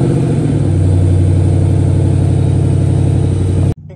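A car engine idling just after an early-morning startup, a steady close low throb with even pulsing for several seconds before cutting off abruptly near the end.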